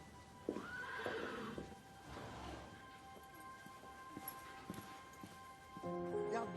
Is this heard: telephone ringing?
no